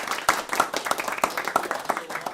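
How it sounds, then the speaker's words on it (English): A small group claps in brisk, scattered applause for a couple of seconds at the end of a university Q&A session, close by and fairly soft. "let's give John a round of applause"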